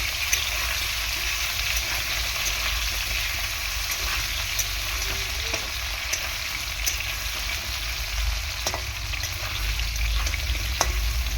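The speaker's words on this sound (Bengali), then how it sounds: "মোটামুটি এরকমভাবে আলুটা আমি প্রথমে ভেজে নেব।" Potato pieces fry in oil in a wok, giving a steady close sizzle with faint stirring scrapes and no voices.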